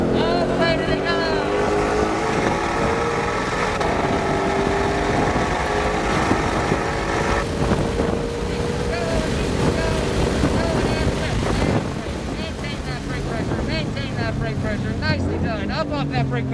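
A Ford Mustang Shelby GT500 engine roars at full throttle on a race track, a loud continuous rising drone with wind buffeting the microphone and a voice talking over it.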